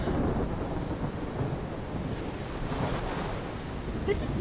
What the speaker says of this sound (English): This is my storm.